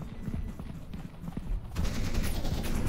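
Rapid turret gunfire rattles in the horror game Content Warning, a dense, loud stream of shots that grows heavier partway through, with a voice talking over it.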